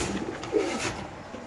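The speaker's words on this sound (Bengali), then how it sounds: "এই যে গোল্লা কবুতর" Golla pigeons coo from cages at a busy pigeon market, a soft, low, burbling call heard near against a background of crowd noise.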